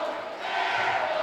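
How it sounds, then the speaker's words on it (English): A high school boys basketball crowd in a gym roars and chants in unison, a dense, sustained wash of voices that fills the whole moment. "and the crowd's chanting air ball"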